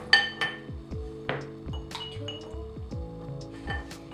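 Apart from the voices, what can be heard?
ice cubes clinking into a glass for boba tea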